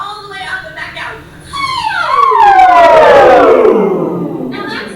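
A human voice imitating an ambulance siren, gliding smoothly from a very low pitch up to a high one and sustaining it loudly, performed alone during a singing exercise.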